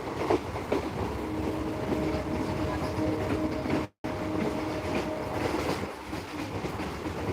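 A train rolls steadily along the rails with a dense, continuous rumble and faint rhythmic clatter, close and fairly loud, broken by a brief dropout midway.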